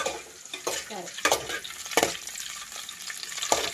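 Boiled egg curry fries in a pan with a steady, close sizzle. A utensil stirs and scrapes through it at irregular intervals, giving sharper clattering accents.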